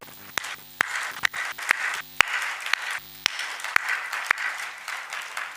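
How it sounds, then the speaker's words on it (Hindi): An audience claps steadily through a Devi Bhagwat Katha religious discourse, with dense continuous applause punctuated by sharp, loud individual claps near the microphone and no talking. "मैं ताली बजाता हूं आपके लिए।"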